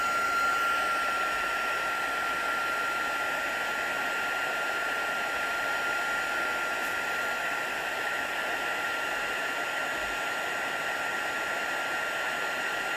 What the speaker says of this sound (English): I'm just bringing our heat tool in, so block your ears again